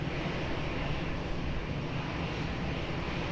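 Fixed-wing airplane taking off from runway 20 at Lisbon Airport, a steady broadband engine roar holding at constant loudness throughout with no voices.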